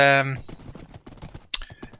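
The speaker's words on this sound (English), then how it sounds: "Let's get on the horse, and I'm going to take you for a ride down the bridle path" Hooves of a decent Minecraft horse clip-clop along a bridle path of cobblestone, wood and dirt in a quick, even rhythm, close by, after a short tonal burst at the start.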